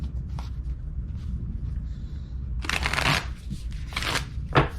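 Tarot cards being shuffled by hand, soft riffling and flicking bursts close by with a louder run of shuffling in the second half.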